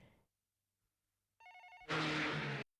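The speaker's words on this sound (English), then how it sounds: "The phone begins to ring just a little bit" An old telephone rings in a Patlabor OVA anime scene, a faint chiming burst followed by a louder, harsh buzzing ring that cuts off abruptly.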